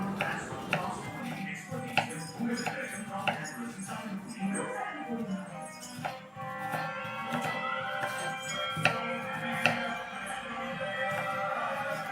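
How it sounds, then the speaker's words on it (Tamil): Onions, tomatoes and green chillies are chopped with a knife for egg kothu parotta, producing repeated close taps under a continuous tonal background sound. "இப்போ வந்து வெங்காய தக்காளி பச்சை மிளகாய் எல்லாமே கட் பண்ணிடலாம்"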